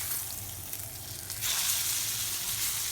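A steak sears in a hot pan after being flipped, a steady hiss that swells louder about halfway through and keeps sizzling to the end.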